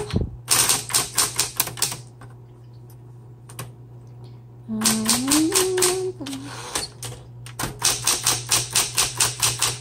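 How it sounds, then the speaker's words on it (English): A 1960s Smith Corona Coronet Electric 12 typewriter types in quick bursts of sharp keystrikes with pauses between, a brief rising carriage-return whir midway, and a constant electric motor hum underneath. "usually just backspace and then type over"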